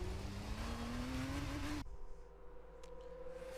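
A Formula 2 race car's engine screams onboard during the 2022 Italian feature race, the driver too greedy with the power. The pitch climbs steadily, then cuts abruptly to a lower, quieter drone.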